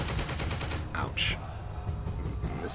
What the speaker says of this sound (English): That was a lot of submachine guns.